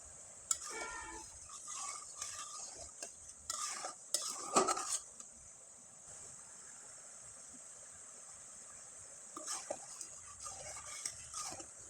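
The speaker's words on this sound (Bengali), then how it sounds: "এবার শিরাটা ভালোভাবে ফুটিয়ে নিতে হবে আর একটু ঘন করে তৈরি করে নিতে হবে" A pot of sugar syrup flavored with three cardamom pods is stirred over heat, bursts of spoon scraping and clinking against the metal pot standing out over a faint bubbling hiss between strokes.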